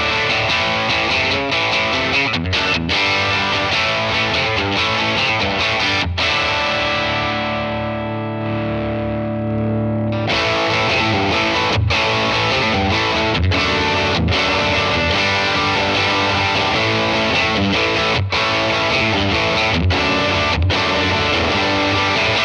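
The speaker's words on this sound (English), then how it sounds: "like the Compulsion Distortion LP" An electric guitar runs through a Compulsion Distortion LP pedal into an amp model, playing thick, saturated distorted chords with sharp rhythmic stops, one brief sustained pause, and no talking.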